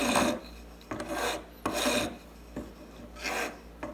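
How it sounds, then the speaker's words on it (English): Light filing on an opal ring during a resizing repair, a soft dry rasp repeated in four or five even strokes, close and quiet with no talk. "I'm just going to do a little bit of very light filing"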